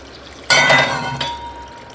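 Water is poured into pulao in a cooking pot: one short, close splashing gush that starts abruptly and fades within about a second.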